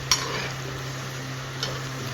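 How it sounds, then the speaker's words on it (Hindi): Okra fried well in a pan gives a soft, steady sizzle under a low hum, with a couple of sharp utensil clicks against the pan. "हमारी जो भिंडियाँ वो अच्छे से फ्राई हो चुकी हैं"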